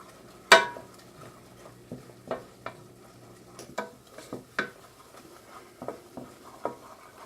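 Seafood stirred in a pan on the stove while it sizzles, with a sharp clatter at the start and then a series of irregular scraping and tapping stirs over a low, steady frying hiss, close and fairly quiet.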